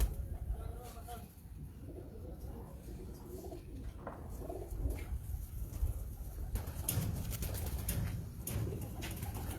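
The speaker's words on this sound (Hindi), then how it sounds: "ये भी 7 नंबर ब्लड लाइन से है कबूतर।" Bloodline pigeons coo softly and repeatedly at close range, with faint rustling and a voice murmuring in the background.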